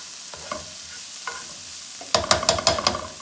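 An onion, shallot and garlic mix sautés in a pan during spaghetti and meatballs prep, soft sizzling broken by a few quiet scrapes, then a louder burst of rapid spoon-against-pan stirring near the end, close up with no voices.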